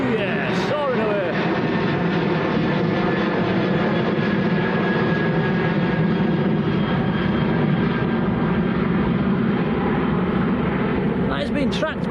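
Aer Lingus jet airliner taking off from Manchester Airport bound for JFK, a sustained, loud, broad engine roar that holds steady throughout, with faint voices in the background.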